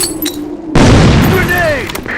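A grenade goes off in Insurgency: Sandstorm with a sudden heavy boom that rolls out into a long rumbling tail, heard close and loud after a brief quieter moment.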